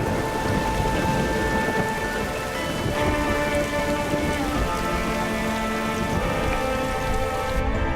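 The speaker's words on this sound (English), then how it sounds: "Frequent, unforgiving thunderstorms batter the landscape almost every day." Heavy rain pours down steadily in a thunderstorm in the Chocó rainforest of Colombia, a dense hiss with low rumbling of thunder underneath throughout.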